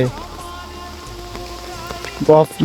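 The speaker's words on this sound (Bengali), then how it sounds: "তো বৃষ্টি হইতেছে সকাল থেকে" Steady rain patters in the background while someone talks nearby, with a few louder clattering bursts toward the end.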